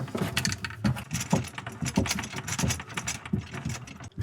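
A wrench ratchets and clicks as it tightens the mounting nut of a new kitchen faucet under a sink, giving a busy run of close metallic clicks and jangles with no talking.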